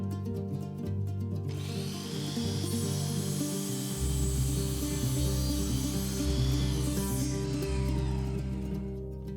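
A jigsaw buzzes steadily through wood, its blade chattering with a continuous rasping drone that shifts pitch partway through the cut.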